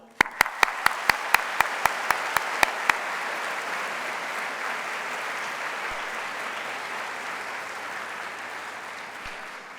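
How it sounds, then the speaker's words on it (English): A graduation ceremony audience at NTU applauds after a few loud, evenly spaced opening claps, then settles into sustained, steady applause filling the hall for nearly ten seconds. "Graduands, please join me in a round of applause to thank all those people who've helped you along the way to reaching this goal."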